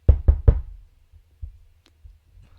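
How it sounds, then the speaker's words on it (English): Three quick, loud knocks on a house door, close and sharp, followed by a couple of fainter thuds and small noises in an otherwise quiet room. "I just hear a knocking"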